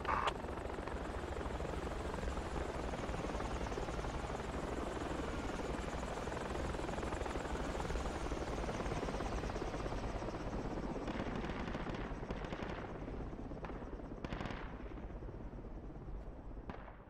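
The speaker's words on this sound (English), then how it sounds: "as soon as I go off the AA, the chopper comes back" A helicopter in the military shooter game Project Reality drones steadily and loudly throughout, its rotor and engine noise filling the mix, while scattered gunfire cracks and bursts come through toward the end.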